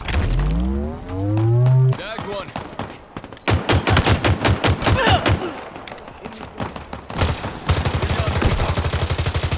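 Gunfire in the video game Halo Infinite, with rapid automatic bursts and single shots mixed with a swooping whine and game effects, loud and close with continuous firing toward the end.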